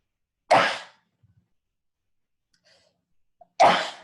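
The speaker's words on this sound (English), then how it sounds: "excuse me, I have to sneeze" Two sharp, explosive sneeze bursts, one early and one near the end, separated by near silence.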